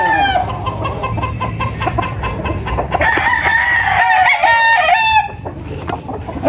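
Several bullstag roosters crowing loudly and close, with overlapping drawn-out calls over a busy background of clucking fowl.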